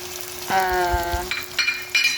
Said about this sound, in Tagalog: lagay na natin yung shiitake mushroom na nahiwa ko na